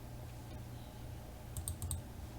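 A quick run of four light mouse clicks while working in Embird embroidery software, close and soft over a steady low hum, with no speech.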